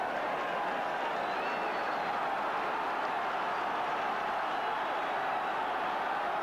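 Stadium crowd at a 1982 Great Britain versus Australia rugby league test match, a steady distant roar of many voices with scattered cheering and applause, faint and sustained with no clear words.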